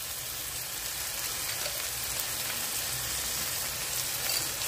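Food fries in a pan with a continuous, even sizzle and crackle, close and fairly loud throughout, with no voices.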